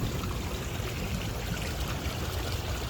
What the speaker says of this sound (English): there's the pond with the waterfall